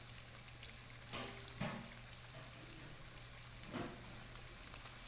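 Beef nuggets sizzle and fry steadily in a pan, a soft continuous crackle with a few brief clinks or stirring sounds, no talking.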